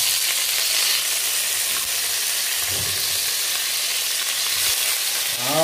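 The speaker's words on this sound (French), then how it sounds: "maintenant que j'ai rissolé mes graines de cumin et mes graines de moutarde, on passe à l'oignon" Chopped onion hits hot oil with cumin and mustard seeds for a vegetable curry, giving a loud, continuous close-up sizzle and hiss that holds steady from start to finish.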